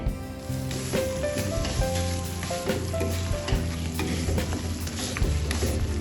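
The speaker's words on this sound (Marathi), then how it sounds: "आता आपल्याला जो गूळ लागणार आहे तो आपण थोडासा वितळवून घेऊया" Steady sizzling and crackling of jaggery melting in ghee in a hot pan, with occasional stirring clinks and scrapes throughout.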